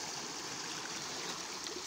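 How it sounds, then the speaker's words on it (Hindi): Irrigation water for a wheat crop rushes in a steady, broad hiss, like a strong flow pouring through a channel, continuous and close, with no voices. "पानी खुल गया"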